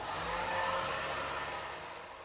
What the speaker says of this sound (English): So I'm now going to go in and just diffuse my hair.